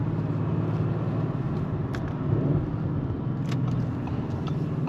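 A 2.9-litre V6 Audi RS4 pulls away on a test drive, its engine a steady, loud low drone heard from inside the car, with a couple of faint clicks over it.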